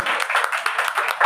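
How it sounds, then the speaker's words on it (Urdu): Audience applause at an evangelistic church service, a brief burst of dense clapping from a crowd, loud and close, with a voice speaking over it. "زوردار تالیاں بزرگا ہنا کے لیے."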